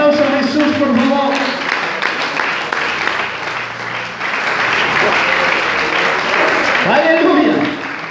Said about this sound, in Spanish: Denle ese aplauso a Jesús, por favor.